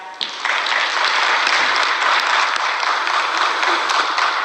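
Steady applause from a church congregation fills the space, dense and sustained at moderate loudness after a sharp first clap, with no voices over it.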